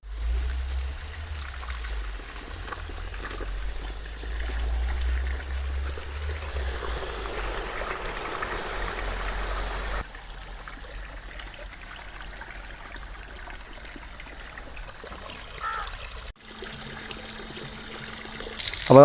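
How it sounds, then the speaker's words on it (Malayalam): Filtered water pours and trickles out of a household water filter, a steady close splashing stream that runs throughout with a brief shift partway, and no talking. "ഫിൽറ്റർ ചെയ്ത് വന്നുകൊണ്ടിരിക്കുന്ന വെള്ളമുണ്ട് ഈ കാണുന്നു"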